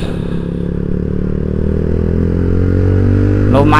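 Yamaha Vixion motorcycle accelerating hard out of traffic, its engine note climbing steadily and loud throughout, with a rising whine near the end; no one speaks.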